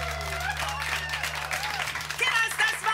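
A studio audience applauds a band with steady, dense clapping and some cheering, while a host speaks over it on a television music talk show.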